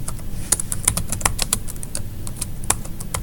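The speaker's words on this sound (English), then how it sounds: "So let's type in San Jacinto" Fingers type quickly on a computer keyboard, a close run of crisp, irregular key clicks with short pauses, and no talk over them.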